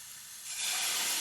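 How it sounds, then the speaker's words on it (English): A splash of water hits a pan of browning leeks and bursts into loud, broad hissing sizzle with steam, rising sharply after a quieter start and holding steady up close. "you'll hear it simmer and sizzle like that"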